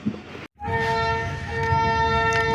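A passenger train runs steadily after pulling out of Sammasatta junction on a foggy night, with a continuous loud rumble of wheels and carriages and sustained horn-like tones over it, broken only by a brief near-silent gap at the start.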